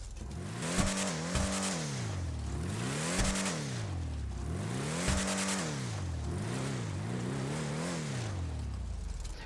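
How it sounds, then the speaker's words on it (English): A Declasse Graugur truck engine in GTA Online rumbles close up, revving up and dropping back several times in a steady rhythm, with no talking. "one thing I noticed immediately is the sound of the idle of this truck"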